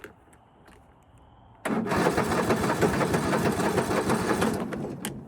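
A Craftsman PGT 9000 lawn mower engine catches after a quiet moment and runs loud and steady with a rapid rattling pulse, close by, with no talking.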